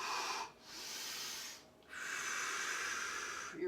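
Slow breaths during chair yoga, with a long exhale, a short pause and a second long hissing breath, fairly quiet and close with no talk.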